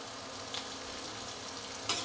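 Onions fry with salt in a pan, giving a close, steady sizzle with faint scraping from stirring and a brief louder clatter near the end, no voices.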